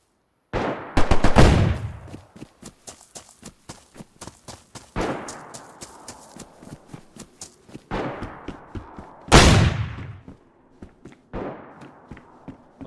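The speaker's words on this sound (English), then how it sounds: "These guys are shooting right next to me." Gunfire from other players in a modded survival game, loud bursts of rapid shots in several volleys, close by, with single cracks and echoing tails between bursts.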